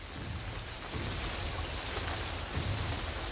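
Rain falls steadily on a greenhouse, making a dense, even hiss and patter heard from inside the shelter, continuous throughout with no voices.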